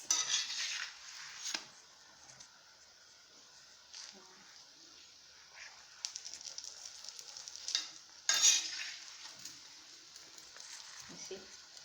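Chapati cooking on a hot pan gives a soft, steady sizzle with occasional scraping and clinks of a utensil, plus a few louder bursts as the flatbread is pressed or turned.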